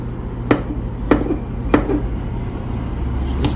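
Knife chopping cabbage and other vegetables for a green goddess salad, with four sharp board knocks spaced about half a second apart over a low steady background hum, close and fairly clear.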